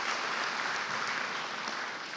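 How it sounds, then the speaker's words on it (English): Sustained audience applause at an adult education graduation ceremony, a steady dense wash of clapping from a crowd holding even loudness throughout, with no talking. "I'll cue the applause."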